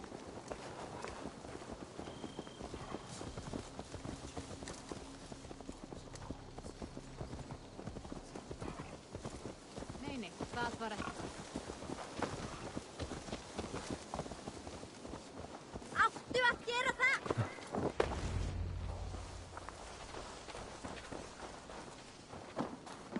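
Horse hooves clip-clop steadily in the Assassin's Creed video game, a continuous mid-distance trot with brief spoken lines and ambient game sound layered over the rhythm.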